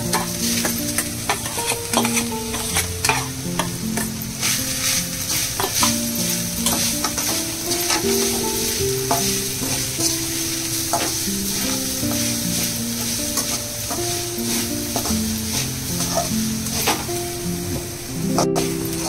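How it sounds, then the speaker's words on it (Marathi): Grated coconut roasts in ghee in a wok, with a steady sizzle and repeated scraping and clinking of a spatula stirring throughout, close and fairly loud, with no voices. "आपलं खोबरं भाजून झालंय"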